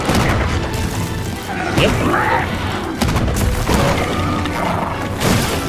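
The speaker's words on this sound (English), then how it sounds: "And the next gun lance. Same thing, just with guns." A gunlance fires in Monster Hunter Wilds, with heavy booming blasts and thuds spread over steady dense game noise, a voice briefly speaking over it.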